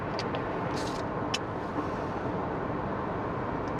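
A car engine runs at a steady, fairly loud low drone, threatening to stall, with a few faint ticks and clicks over the constant rumble.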